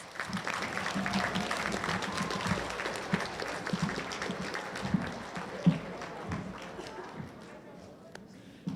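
Sustained applause from a school awards assembly audience fills the room, a dense steady patter of clapping that slowly thins and fades toward the end.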